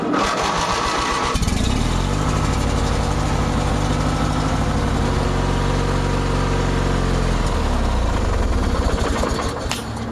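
A Craftsman DYT4000 lawn tractor engine, old and dirty with carburetor trouble, cranks and catches, then runs loud and close with a steady droning idle before revving briefly near the end.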